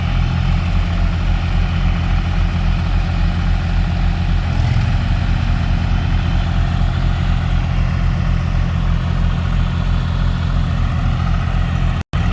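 Tractor diesel engines running in first gear, a John Deere 5050D and New Holland 3600-2 4WD, a loud continuous low drone heard close and steady throughout, with no talk.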